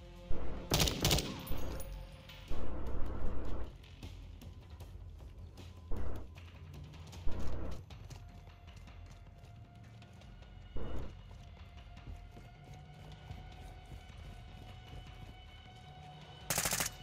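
Heavy gunfire in Call of Duty: Modern Warfare 2 rattles out in loud bursts, a long burst near the start followed by shorter volleys spread through the scene, set against a steady background of game ambience and hum.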